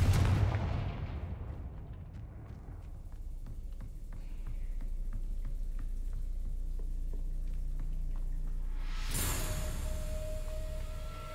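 A Confringo blasting curse going off in a wizarding video game, heard as a deep rumbling blast that settles into a low sustained roar, then a sharp bright burst near the end, with no talking.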